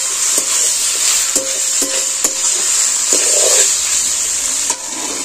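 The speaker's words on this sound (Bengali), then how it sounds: "আবার এটাকে আমি খুব ভালো করে নেড়ে চেড়ে নিচ্ছি।" A boiled cauliflower mixture frying in a pan hisses with a bright, continuous sizzle, while a spatula stirs and scrapes with a few sharp clicks and knocks against the pan.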